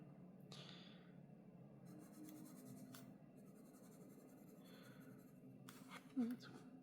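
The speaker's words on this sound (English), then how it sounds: "Let's just try this pencil out." A pencil tried out on paper produces soft scratchy strokes and light rubbing at close range, faint and intermittent, with a short burst of talk near the end.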